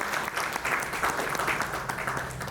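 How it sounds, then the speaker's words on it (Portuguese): Conference audience at an HR event applauding a guest as she takes her seat, with steady, moderately loud clapping throughout. "Por favor, palmas para ela."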